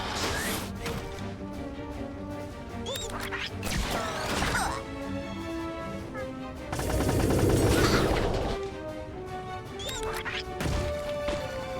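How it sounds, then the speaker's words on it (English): Yoshi firing at Mecha Jr. in Mario + Rabbids, a busy run of blasts, crashing impacts and whooshing effects over game music, swelling into a heavier barrage midway. "Yoshi is going to fire at Mecha Jr."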